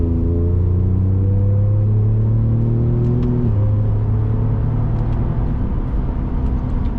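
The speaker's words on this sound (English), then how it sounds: "It shifts pretty hard when you rip it like that" A Ford Raptor pickup in manual mode, its engine droning loudly as the revs climb, then a sharp downshift drops the pitch before it builds again, heard from inside the cab.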